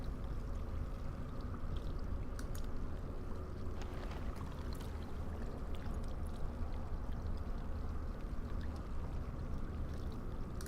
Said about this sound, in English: Fill the earthen jug with water.